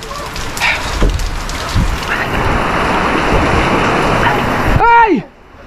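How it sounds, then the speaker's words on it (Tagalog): Steady rain pours across the whole stretch, a dense hiss with a few louder spatters, cutting off abruptly near the end. "Umuulan!"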